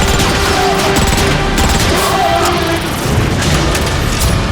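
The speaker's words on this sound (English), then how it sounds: "The Ark is getting shelled pretty bad by those warp cannons." Warp cannon artillery shells pound the Ark in Transformers: Fall of Cybertron, with loud, dense, continuous booms and bursts of gunfire filling the scene.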